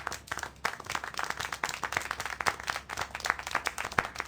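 Rhythmic hand claps from a character in the video game Syberia The World Before, steady and moderately close, continuing for several seconds without speech.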